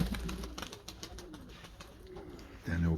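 Pigeons coo in low, repeated rolling calls under a noisy backdrop, with a louder burst of cooing near the end; a person talks at times.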